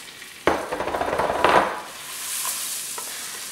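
Orzo pasta and raw rice are stirred through melted butter in a pan, with a sharp scrape at the start and a second burst of stirring, each giving a short run of dry grainy rustling and soft sizzle before quieter pan noise.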